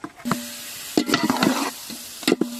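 Chicken sizzles in spiced biryani masala in a hot pan, cooked outdoors village-style, with several scraping stirs of a spoon or spatula, close up, in uneven bursts.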